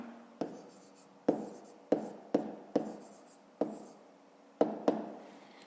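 Handwriting numbers for a fifth-grade maths exercise, about nine short sharp taps and scratches of pen on paper in an irregular rhythm, close and clear with no talk.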